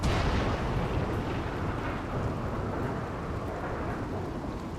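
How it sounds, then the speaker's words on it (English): Heavy rain and thunder in the video game RimWorld, a loud, continuous low rumble over a wash of rainfall that is strongest at the start and eases only slightly. "So much rain."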